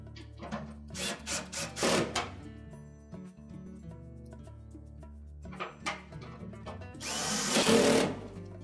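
A power screwdriver driving screws to secure the front panel onto a Frigidaire washer cabinet, short whirring bursts with pauses between them and a longer, louder burst near the end, close by with no talking.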